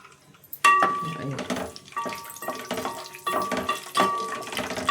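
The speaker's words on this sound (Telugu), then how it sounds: "పలుకులు అయితే వేసేస్తున్నాము. మంచిగా వేయించుదాం." Nuts rattle and sizzle in a hot pan, stirred in repeated clattering bursts, with a faint high whine in the background.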